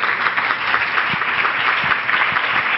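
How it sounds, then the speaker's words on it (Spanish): A conference hall audience claps steadily to welcome a keynote speaker at a lecture, a continuous even wash of applause with no talking over it. "Las y lo recibimos con un fuerte aplauso"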